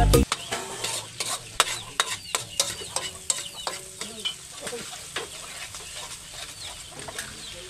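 Buttered garlic mussels and squid fry in a pan, with a busy sizzle broken by regular sharp clacks and scrapes of a utensil against the pan, close by.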